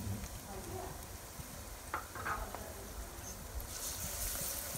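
Onions sauté with freshly added garlic paste in a karahi for keema matar, a soft, steady sizzle with a few faint stirring scrapes, heard close but quiet.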